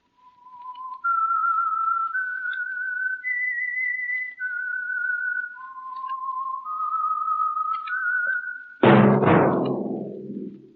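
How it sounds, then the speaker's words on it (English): The whistled signature tune of the old-time radio program The Whistler: a lone melody of sustained, clear notes stepping up and down, followed by a sudden loud burst of broadband noise at the end. "That whistle is your signal for the Signal Oil Program"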